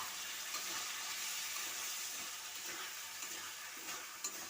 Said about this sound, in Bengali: একটুখানি জল দিয়ে দিলাম সামান্যটুকু।